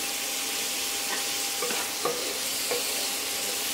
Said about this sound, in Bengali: নুন দিয়ে সবজিগুলো একটু হালকা করে ভেজে নেব